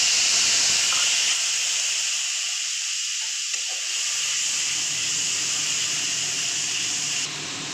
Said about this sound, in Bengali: এবার আমি টক দইটাকে দিয়ে দেবো।